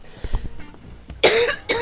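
Two sharp, close coughs in a point-and-click adventure video game, after some faint low thumps, the second cough shorter than the first.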